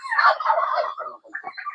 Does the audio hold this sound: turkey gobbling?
yes